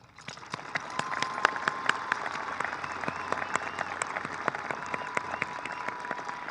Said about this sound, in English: please join me in giving ourselves a very well-deserved round of applause.